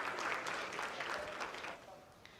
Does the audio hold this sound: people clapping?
yes